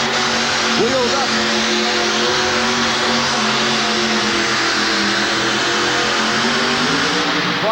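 A 1989 USHRA pulling truck nicknamed the Rice Burner roars down an indoor track in Worcester, Massachusetts, its engine droning loud and constant with a quick pitch rise near the start. An announcer talks over it.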